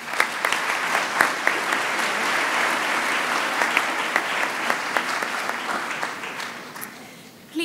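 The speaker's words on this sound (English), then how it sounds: "Let's give our festival and orchestra singers a round of applause." A crowd claps steadily and warmly for festival orchestra and singers at a school music concert, sustained applause that carries through and fades slightly at the end.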